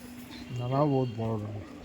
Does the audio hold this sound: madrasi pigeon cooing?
yes